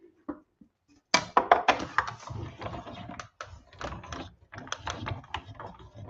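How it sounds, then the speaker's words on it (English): Card pieces in a wood grain embossing folder cranked through an embossing machine, a run of rapid clicking and ratcheting bursts after a brief pause, close and fairly loud, no speech. "I've got them all set up there in my wood grain embossing folder, and I'll just pop them through."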